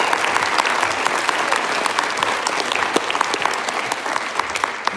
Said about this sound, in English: So just give yourselves a round of applause.